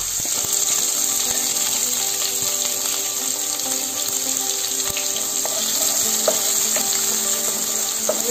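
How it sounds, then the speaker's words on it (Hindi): Chopped onion and green chilli fry in a pan with a loud, steady sizzling hiss up close, broken by occasional light clicks and stirring, with no voices. "अब इसमें प्याज और हरी मिर्च को काट के रखा है वो डाल देंगे।"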